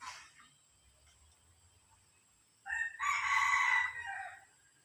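A rooster over a year old crows once, a moderately near, strained call lasting over a second after a quiet stretch, with a faint chirp at the start.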